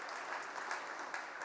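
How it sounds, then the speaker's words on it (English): Church congregation at a parish kids' talk applauds a child, a soft, fairly distant patter of many hands, steady with occasional sharper claps. "let's give her a round of applause"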